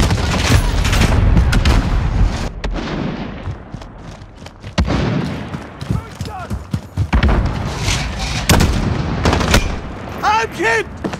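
Call of Duty Modern Warfare combat brings a grenade explosion and bursts of gunfire in sharp, loud, repeated cracks and booms amid chaotic battle noise, with voices calling out in the game.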